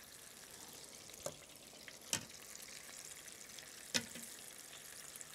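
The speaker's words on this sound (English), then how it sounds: "While that first batch fries" Taiwanese popcorn chicken deep frying in hot oil, a steady close bubbling hiss broken by a few brief louder crackles, with no voices.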